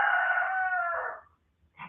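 A rooster on a homestead crows once, loud and close, a single sustained call that trails off into a brief silence, followed by a short faint sound at the end.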